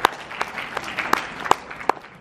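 Audience at a festival talk clapping, a short burst of applause with distinct sharp claps repeating roughly every third of a second, close and moderately loud.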